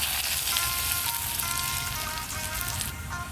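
A ginger and garlic mix fries on a high flame for chilli fish, making a continuous crackling sizzle close by, with faint tonal sounds running underneath.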